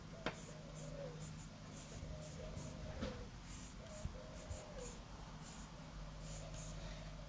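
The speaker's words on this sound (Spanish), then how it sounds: "con el lápiz, vamos a hacer unas líneas un poco más oscuras" A pencil drawing darker lines on paper for a perspective exercise, soft scratchy strokes repeated in short bursts, quiet and close, with no voices.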